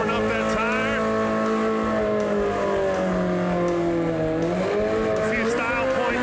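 A 1968 Chevy Camaro drag car warms up its tire at the strip, its engine droning loudly and steadily with rising and falling revs throughout.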